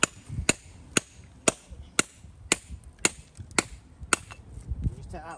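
A hammer taps a cold chisel against stone while dressing a drystone wall, about ten sharp, evenly spaced metallic clinks, close and loud, with a little low background noise between strikes.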